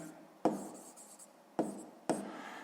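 Pen on paper writes down a sixth-grade maths result about a rectangle's area: three crisp strokes with gaps between them, close by and alone.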